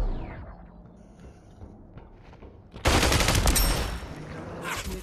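Sudden loud, sustained gunfire in the VR shooter Population: ONE bursts in after a quieter stretch of faint mechanical clicks and rattles, forming a dense crackling barrage up close.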